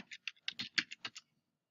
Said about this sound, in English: So in here, I'm just going to type circle.